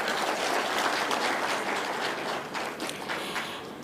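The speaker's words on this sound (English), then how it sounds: "Kindly give them a hand clap." A conference audience gives a broad, steady round of hand clapping that fills the room and lasts several seconds, slowly thinning toward the end.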